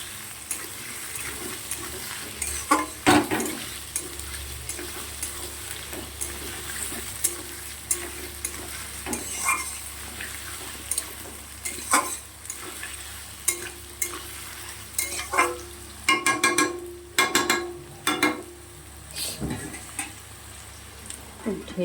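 Diced potatoes and chopped onion fry in oil with a continuous sizzle, while a spatula scrapes and stirs the pan in repeated clattering bursts that grow busier toward the end.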